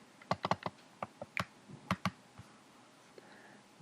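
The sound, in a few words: computer mouse clicks and keyboard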